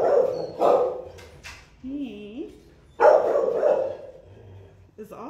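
Three-year-old German Shepherd at an animal shelter barking in short loud bursts close by, with a brief whimpering whine between barks and a person speaking.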